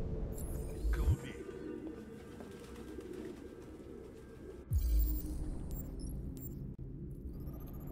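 Pigeons coo with low, throaty rumbling calls in Detroit: Become Human, two louder bursts standing out over a dim room tone, with occasional higher chirps and no talking.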